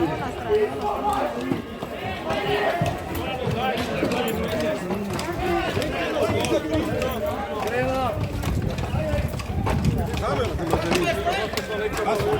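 Horses' hooves clip-clop continuously on a street in Ljubljana, steady and fairly near, under constant overlapping chatter and shouting from people nearby.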